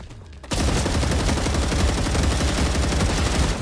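Sustained automatic gunfire from the video game StarRupture bursts in after a brief quiet lead-in, a dense, loud, continuous rattle of rapid shots that carries on without pause to the end.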